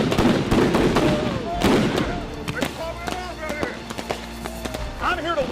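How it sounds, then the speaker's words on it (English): Rubber bullets fired along a street during a clash, sharp cracks and pops at about 0.5 and 1.7 s, loud and close amid shouting and a running crowd. "Man, quit shooting at me! Quit shooting at me!"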